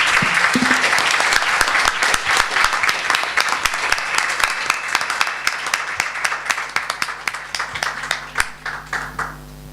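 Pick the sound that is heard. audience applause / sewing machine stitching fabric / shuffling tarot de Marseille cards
audience applause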